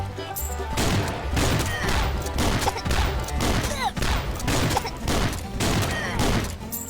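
Dense, continuous gunfire from the Swamp Attack video game, rapid overlapping shots with crashes and effects, loud and relentless throughout.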